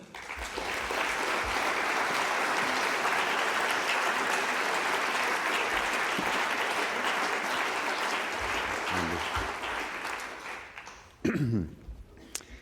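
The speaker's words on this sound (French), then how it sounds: "je pense que l'on peut vous applaudir" Sustained applause from a conference audience in a university hall, a dense, steady wash of clapping lasting around ten seconds before fading, with a few voices and noises after it dies down.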